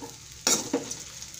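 A spoon scrapes through sabudana khichdi in a pan in two quick, close stirring strokes, with a faint sizzle in the background and no talking.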